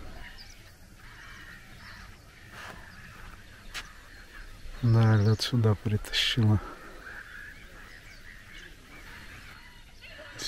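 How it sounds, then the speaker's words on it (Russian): Moorhens on a marsh pond in the Southern Urals in spring give a short burst of loud, harsh, honking calls in the middle, while a person talks quietly before and after over a steady outdoor background. "Это болотные курочки."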